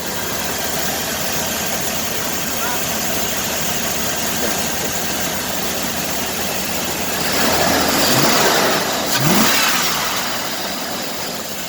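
A Chevy OBS pickup with an LS engine swapped in for the Vortec idles loudly and steadily nearby, then revs up twice in quick succession before settling back to idle.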